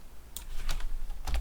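Computer keyboard keys pressed while editing an image on a website, a few distinct clicks close by over quiet background noise.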